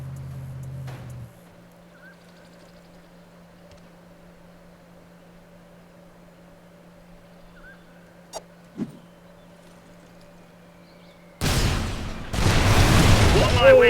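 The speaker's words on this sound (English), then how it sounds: "that's going to make for a nice firework explosion here." An explosion of a stockpile of cars in the video game Mercenaries 2 bursts in loudly near the end, a heavy broadband blast that swells and roars after a long quiet stretch with a low hum and a couple of small clicks.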